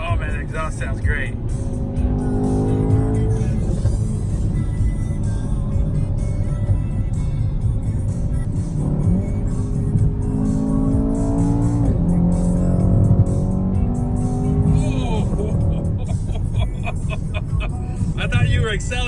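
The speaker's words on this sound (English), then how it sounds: "Oh man, the exhaust sounds great." Mercedes E63 AMG wagon exhaust roaring steadily as the car accelerates at high speed, a loud continuous engine drone heard from inside the cabin under constant conversation between occupants.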